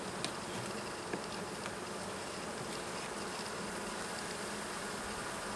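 Close, dense buzzing of a honeybee colony fills a queenless hive during a Norfolk inspection, a steady hum with individual bees zipping past the microphone.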